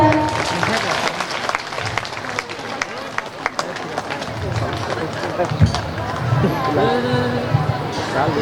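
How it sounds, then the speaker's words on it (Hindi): Audience at a women's association stage programme applauding, a dense sustained patter of many hands under crowd babble, lasting throughout. "और एक बार जोर से ताली।"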